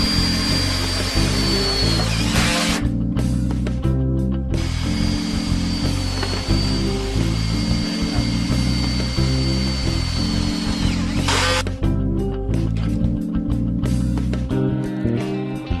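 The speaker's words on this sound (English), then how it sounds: "The wall sections are fitted to the base using self-drilling bolts." A power drill drives self-drilling bolts through wall sections into the base of a conservatory being built, with loud repeated whirring bursts and pauses across the stretch, close up and with no talking.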